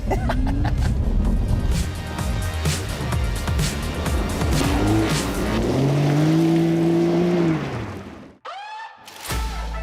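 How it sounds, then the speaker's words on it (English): A Porsche 911 (992) engine roars and revs continuously while doing donuts on gravel, pitch rising and falling as it spins, loud and close, with gravelly noise underneath, cutting out abruptly near the end. "doing donuts on gravel in a Porsche"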